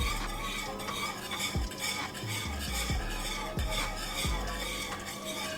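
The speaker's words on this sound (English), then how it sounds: "Keep on whisking so that there's no lumps." A whisk stirs green banana and peanut porridge in a pot, making a steady rhythmic scraping and swishing that repeats close up, with no talking.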